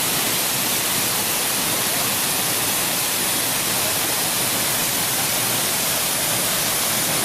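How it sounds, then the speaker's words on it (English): La Fortuna waterfall near Arenal volcano in Costa Rica, heard from the bottom of a canyon, gives a constant, loud, hissing roar of falling water with no breaks or other sounds. "This is a waterfall of La Fortuna, which is very close by the Arenal volcano."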